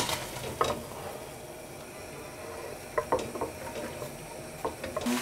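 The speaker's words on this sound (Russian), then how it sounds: "Лук шкварчит. Это означает только одно, он жарится." Onions frying for Kyrgyz beshbarmak give a soft continuous sizzle with a few sharper crackles and scraping stirs scattered through, close and moderately loud, with no voices.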